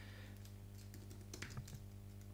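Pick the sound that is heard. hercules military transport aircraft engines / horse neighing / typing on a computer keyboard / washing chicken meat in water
typing on a computer keyboard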